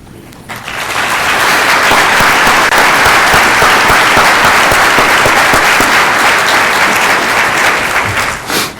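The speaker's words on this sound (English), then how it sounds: "We'll do one more round of applause for them." Sustained audience applause for standing committee chairs at a conference gathering, loud and dense clapping from a large crowd, starting abruptly and holding steady for several seconds before tapering slightly at the end.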